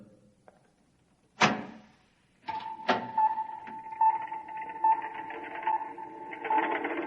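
A door opens in a radio drama, a sharp click and latch thump followed by a creaking swing, then a steady mechanical hum with rhythmic beeps rises in the background.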